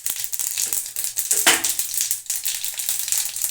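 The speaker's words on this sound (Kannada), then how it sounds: "ಇವಾಗ ಸಾಸಿವೆ ಚೆನ್ನಾಗಿ ಸಿಡಿದಿದೆ" Mustard seeds splutter in hot oil, with cumin seeds added to the pan, for a radish chutney tempering. Dense crackling and popping runs throughout at close range, with a louder burst of spitting midway and no voices.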